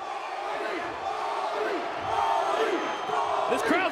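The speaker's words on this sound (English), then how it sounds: "This crowd's ready for WrestleMania." A packed wrestling arena crowd roars and cheers continuously, a dense distant wall of voices with rising shouts toward the end, while a commentator talks over it.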